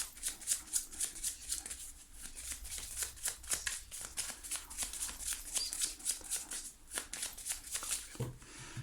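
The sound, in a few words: shuffling and cutting tarot cards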